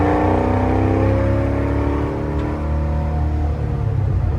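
A 1961 Corvette Resto-Mod's engine revs up as the car accelerates, a loud, close, rising V8-style roar that holds strong throughout.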